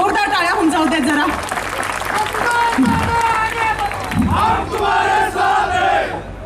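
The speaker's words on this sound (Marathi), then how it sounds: "आपल्या आशुतोष दादांसाठी आणि वहिनींसाठी, त्यांच्या सर्व कुटुंबियांसाठी जोरदार टाळ्या होऊन जाऊ द्यात जरा." A crowd at a live comedy stage show in Kopargaon cheers, whoops and applauds loudly for several seconds, a dense roar of voices and clapping with shouts rising and falling over the din.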